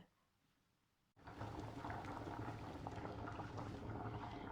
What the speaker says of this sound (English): Now I have put all the manioc pieces into the boiling water